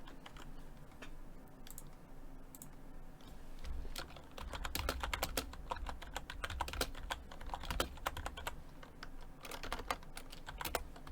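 Steady typing on a computer keyboard while a form is written up, a dense run of quick close key clicks with a slightly busier, louder stretch in the second half.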